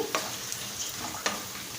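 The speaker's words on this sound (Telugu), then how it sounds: "ఇప్పుడు వెండిమిర్చి కొద్దిగా ఫ్రై అయిన తర్వాత, తొందరగా మాడిపోతాయండి" Dried red chillies frying in hot oil for pulihora, a steady soft sizzle with faint crackles and a few sharper pops, close and continuous with no voices.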